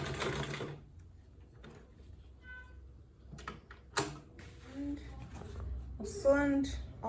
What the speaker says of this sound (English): So I'm going to turn and kind of sew.